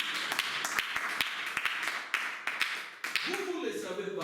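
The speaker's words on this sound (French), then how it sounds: "Acclamons pour le Seigneur Jésus." A church congregation claps in scattered, uneven bursts at moderate distance, with sharp individual claps standing out, and a voice rises near the end.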